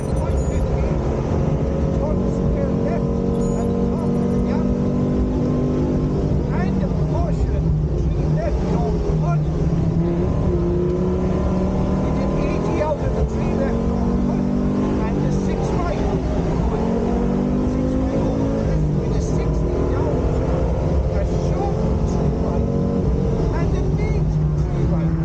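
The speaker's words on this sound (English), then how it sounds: "driven by James Hall and Tony McCarthy, as the pair traverse the gap and head to Kenmare in their iconic Quattro" An iconic Audi Quattro rally car drives a historic rally stage near Kenmare at the Killarney Historic Stages Rally, its engine roaring continuously with repeated revving swells and gear changes over about twenty-five seconds while a commentator talks over it.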